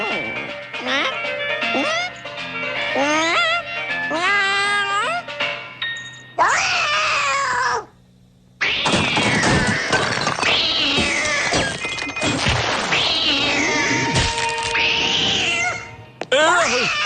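Cartoon cat meowing and yowling in a kids' animated series, with repeated rising and falling cries, loud and close, alternating with a child's babbling and speech.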